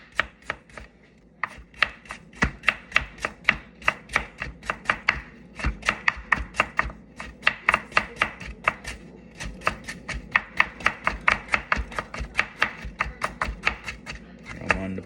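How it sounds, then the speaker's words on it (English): Kitchen knife chopping carrots on a board while preparing Jamaican stewed turkey, a steady run of crisp, closely spaced chops with brief pauses, close and fairly loud, no talking. "I'm cutting up some carrot"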